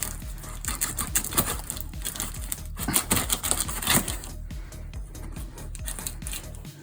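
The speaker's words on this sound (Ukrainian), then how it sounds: "Давай розпаковувати посилку." A dog rips and chews at a parcel package, producing busy crinkling, tearing and scratching sounds in quick irregular bursts, fairly close and moderately quiet, with no talking.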